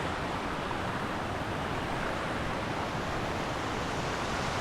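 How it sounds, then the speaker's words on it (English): Waterfalls along a river on a steep canyon trail at Ferguson Canyon, a constant broad rushing roar of falling water, steady and fairly loud with no breaks and no voices. "So yeah, waterfalls are starting already."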